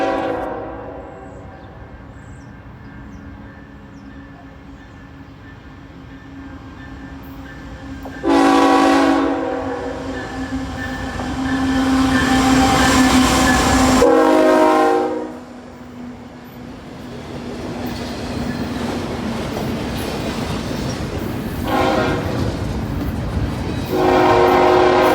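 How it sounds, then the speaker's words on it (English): Canadian National freight train Q116 heading south on track 1 rolls past steadily with a continuous rumble, sounding its horn in two long, loud blasts midway and a few shorter toots near the end. "Our first train of the day would be Canadian National Train Q116 heading south on track 1 into Moterm."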